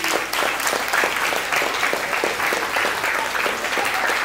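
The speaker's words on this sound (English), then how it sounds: "Children, clap your teachers." Children at a school symposium applaud their teachers, a steady, dense wash of clapping from a sizable young crowd that holds evenly throughout.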